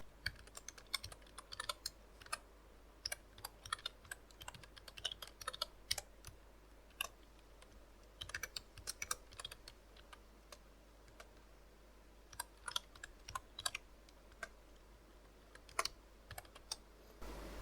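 Keys clacking on a computer keyboard as code is typed, in quick irregular bursts separated by short pauses, close and fairly quiet with no talking.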